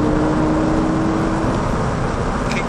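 A Lamborghini Gallardo accelerating out of a turn on a cone-marked course, a loud, sustained engine drone with a steady tone heard from inside.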